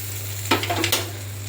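Spices tempering in hot oil for a butter beans mutton curry, a brief crackling sizzle burst over a steady low kitchen hum, fading after about half a second.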